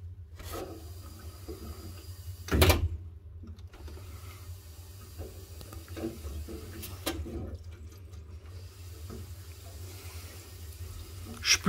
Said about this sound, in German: spüle jetzt im Grunde genommen manuell